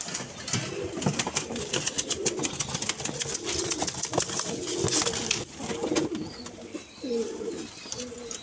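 Pigeons coo in repeated low, throaty phrases close by, several birds overlapping in a steady rhythm, with occasional rustles and soft chirps among them.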